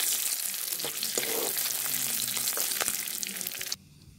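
Bay leaves, green chillies, curry leaves and mustard seeds frying in oil for dhaba-style dum aloo, a loud continuous sizzle with crackles and stirring that cuts off abruptly near the end.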